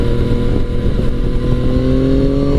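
Loud, steady engine drone from a 2017 Yamaha FJ-09 motorcycle held in second gear around 6,000 RPM, with a strong harmonic whine slowly rising in pitch throughout, no speech.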